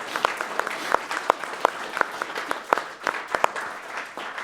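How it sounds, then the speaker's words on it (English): Scattered audience clapping at the RPG Limit Break 2022 finale, a sparse but steady patter of individual claps from a moderate crowd, with no voices over it. "So let's give all of them a round of applause"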